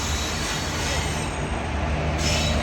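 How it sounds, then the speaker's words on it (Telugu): A goods train passes close by on the next track, a loud, continuous rolling roar with wheel squeal and rail clatter throughout the clip. "గూడ్స్ ట్రైన్ అయితే పోతుంది."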